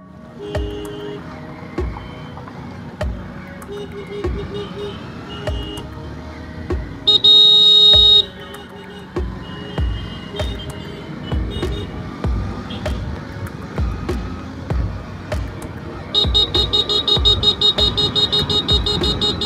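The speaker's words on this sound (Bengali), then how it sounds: "এখন চলে এসেছি কল্যাণী হাইওয়ে" Traffic at the Kalyani highway crossing: a steady road rumble with passing vehicles, broken by repeated car horn toots and two longer, buzzing horn blasts.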